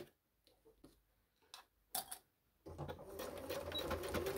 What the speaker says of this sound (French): on vient coudre à 1 cm du bord